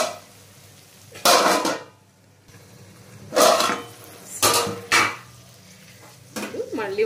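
A spoon scrapes and clatters against a pan of Andhra-style stuffed brinjal (gutti vankaya) curry in several short separate bursts, with quiet pauses in between and a faint sizzle underneath.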